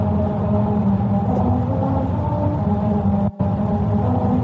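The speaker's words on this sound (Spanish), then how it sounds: "Vas circulando por ellas y el relieve hace que suene música." A badly built musical road in California, sounded by a car driving over the grooved rumble strips, gives a steady droning, tonal hum with a warbling, off-key melody. It runs continuously and loud, with one very brief dropout near the end.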